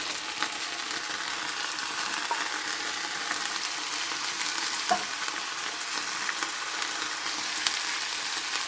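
Minced meat frying in a pan, giving a steady, close, dense sizzle with occasional small pops and no talk over it.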